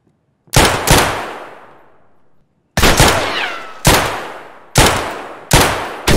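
Heavy Mosin rifle shots in Escape from Tarkov: five loud, sharp cracks with long reverberant tails, the first standing alone and the rest coming in a fairly even rhythm.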